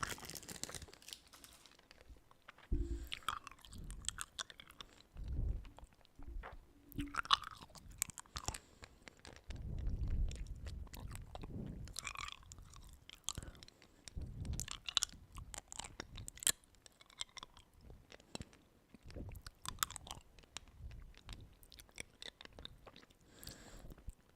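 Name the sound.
chewing and crunching candy, mouth sounds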